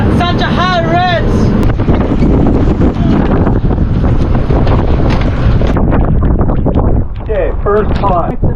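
Strong 50 mph wind buffets a crabbing boat off the Oregon coast, roaring steadily and close throughout as people talk over it.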